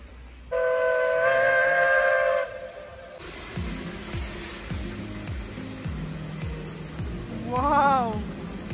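A steam train near Beddgelert in Snowdonia gives a long, loud whistle blast, then rumbles past close by with rhythmic wheel clatter, steady hissing steam and a rising squeal near the end.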